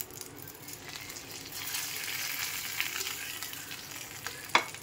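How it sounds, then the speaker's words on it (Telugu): Spices tempering in hot oil for a potato fry give a steady frying hiss that swells midway, with a sharp crackle and pop near the end; no voices are heard. "పోపులో ఇలా వేస్తే అలా రావాలన్నమాట, చుయ్యమనాల"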